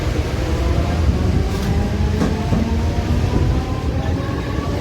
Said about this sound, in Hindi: प्लेटफॉर्म नंबर 2 पर आई ट्रेन खांदेश्वर।